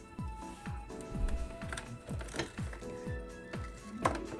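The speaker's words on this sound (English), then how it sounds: "That's my keyboard." Computer keyboard typing, with steady, fairly close key clicks in an irregular rhythm and a few louder strikes, heard alone with no talk.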